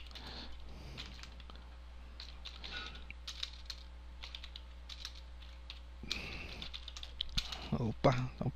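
Fingers type on a computer keyboard in soft, quiet bursts of clicking taps over a low steady hum, pausing briefly before a final flurry of keystrokes.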